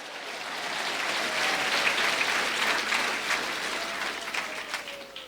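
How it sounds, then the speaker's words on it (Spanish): Steady, loud applause fills a church congregation's Spanish-language worship service, sustained throughout with dense clapping and faint voices mixed in. "Fuerte aplausos, aleluya."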